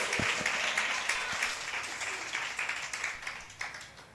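Church congregation applauding during a Spanish-language sermon, a dense, steady wash of many hands clapping that stays loud throughout and tapers slightly toward the end.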